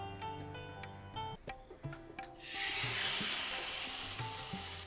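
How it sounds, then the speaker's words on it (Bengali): Chicken pieces go into a hot pan of oil, and a loud, steady sizzle of frying breaks out after faint clinks and scraping from utensils. "আমাদের প্যানটা গরম হয়ে গেছে, আমরা অতিরিক্ত গরম করব না। আমরা চিকেনটা একটু দিয়ে দিচ্ছি এই মুহূর্তে।"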